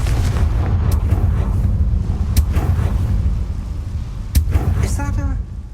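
In the Hogwarts Legacy video game, the Confringo blasting spell sets off rumbling booms with sharp cracks over a continuous deep roar, and a voice speaks briefly near the end.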